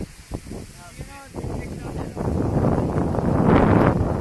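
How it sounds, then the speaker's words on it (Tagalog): Strong wind at Pagudpud buffets the microphone in heavy, rising gusts that grow louder toward the end, with a voice speaking briefly near the start. "lakas ng hangin"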